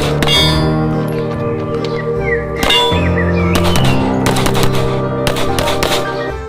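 Rapid bursts of toy Glock pistol gunfire effects crackle loudly in uneven clusters over a sustained electronic tone, with sharp clicking pops and brief pauses between volleys.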